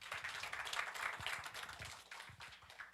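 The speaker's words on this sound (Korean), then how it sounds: "역시 다시 한번 박수 부탁드릴게요" Faint applause from a symposium audience after an academic presentation on air quality management, a soft, steady patter of clapping that sounds somewhat distant and quiet throughout.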